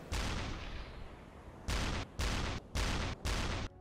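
A torpedo strikes its target in the UBoat submarine game with a loud, heavy blast that rumbles away, followed by four short, punchy booming bursts in quick, even succession.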